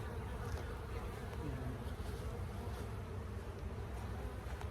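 Honey bees buzz around an open hive during a quick check for swarm cells, a dense steady drone close by and alone, with no talk.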